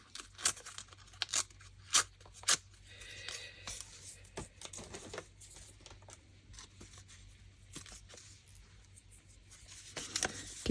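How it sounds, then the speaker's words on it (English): Paper being torn by hand for a junk journal ephemera folder, a few sharp close ripping bursts followed by softer rustling and handling, with no talk. "I do need to kind of rip this a bit"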